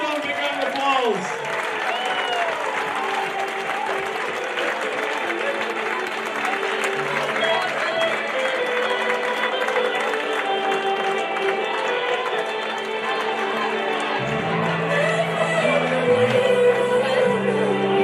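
Sustained audience applause at a football club's player of the season awards night, a dense steady clatter of many hands clapping indoors with cheering mixed in, going on for the whole stretch.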